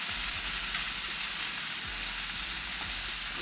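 Tomato paste sautés in a pan for homemade chicken burgers, a close, continuous sizzle with a low hum underneath and a few soft scrapes from stirring.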